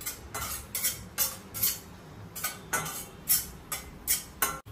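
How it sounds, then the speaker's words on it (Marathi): Vermicelli and dry fruits frying in ghee in a pan while a utensil stirs, a regular run of scraping metallic strokes up close, each stroke a short hiss-like scrape, with no talk. "आता हे सर्व मी ड्रायफ्रुट्स वगैरे शेवई फ्राय करून घेणार आहे."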